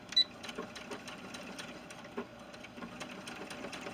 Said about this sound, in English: we're just going to sew those two pieces together, right side to right side, with a 1/4 inch seam